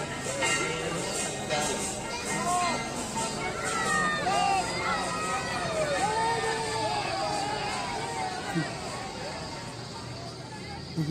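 A dense crowd of devotees at the Bahuda Rath Yatra in Faridabad, with a continuous babble of many voices, shouts and chanting close around, steady throughout with someone speaking over it.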